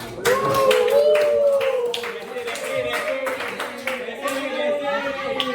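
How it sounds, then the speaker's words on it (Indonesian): Students in a classroom clap for the top scorer on a quiz, brisk clapping running throughout beneath overlapping voices that talk and call out over it. "Tepuk tangan untuk Danang"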